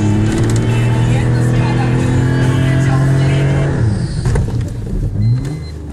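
Ford Mondeo V6 engine held hard against the rev limiter, a loud steady high-pitched drone that drops away near the end, with people talking over it.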